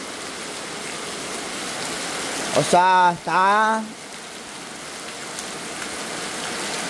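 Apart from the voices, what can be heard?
heavy rain pouring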